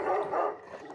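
A dog barks once in a short, loud, close burst with a rough, slightly yelping edge, heard alone.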